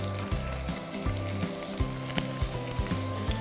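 Cumin, green chilli and onion sizzle in hot Nutrela soya oil in a heated pan. A close, steady crackling fry runs throughout, broken by regular soft knocks of a spoon stirring.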